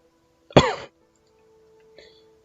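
A character in the Arknights video game gives one harsh, close cough. A faint, brief sound follows after a short silence.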